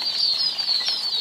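Penned game birds flap their wings in a quick rustling flurry at close range, a steady papery beating with a faint high whistle running through it.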